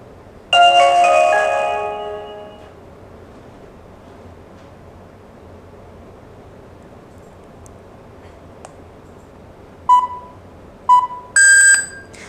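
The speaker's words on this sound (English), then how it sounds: "So when you hear the loud beep sound, it's already connected." A smart home security camera gives a loud electronic beep as it connects to Wi-Fi: a bright tonal burst at the start, then a quiet stretch, then a few short beeps near the end, with no talking.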